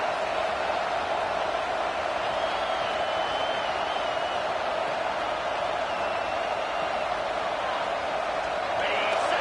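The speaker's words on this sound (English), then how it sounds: "the crowd coming to life here, trying to help this defense down in the red zone" Football stadium crowd at a college game between Michigan and South Carolina, a steady, dense roar that builds as the home crowd rallies behind its defense near the goal line, with faint whistles riding on top throughout.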